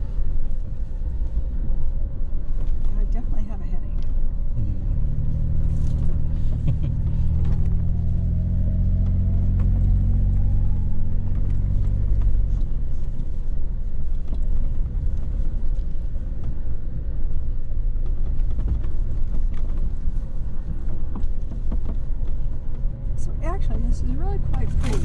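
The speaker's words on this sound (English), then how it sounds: "Ooh, the Jeep's going along there." A Jeep crawling along a desert dune trail on the East Rim, heard from inside as a steady low engine rumble with a heavier surge midway, while people chat throughout.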